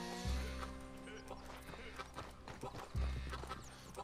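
A horse in the Red Dead Redemption 2 video game, its hooves clip-clopping in a quick rhythm with two low thuds and snorts, all set against a layered in-game music or ambience bed.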